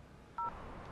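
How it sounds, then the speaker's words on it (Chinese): A single short telephone keypad dialing tone beeps once, clear but brief, over a low steady room hum during a phone-call scene in a Chinese TV drama. "再给年年打，再打。"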